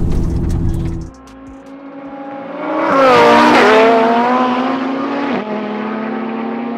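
A twin-turbo 1100 hp Audi R8 and a built 1000 hp Audi TTRS idle loudly at the line, then launch in a street drag race. Their engines roar and climb in pitch close by before settling into a sustained high-revving drone.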